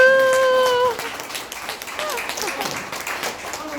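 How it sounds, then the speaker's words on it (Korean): Scattered hand clapping from a gathered audience follows a brief spoken line, light and uneven, continuing for a few seconds at moderate level. "오, 박수!"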